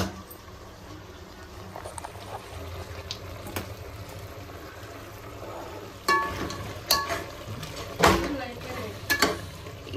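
Goat head curry boils in a pot after water is poured in, with a soft continuous bubbling and a few louder splashes and clanks of a utensil near the end, heard close up.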